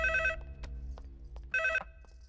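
A telephone bell rings in two bursts separated by a pause, bright and electronic, close by with a low hum underneath.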